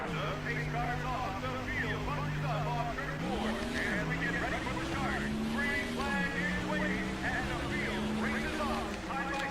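Stock car engines from NASCAR Thunder 2004 racing at Loudon drone loudly and steadily, pitch sliding up and down through gear changes, with a voice talking over the continuous roar.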